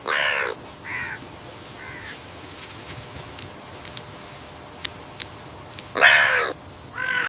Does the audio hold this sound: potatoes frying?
no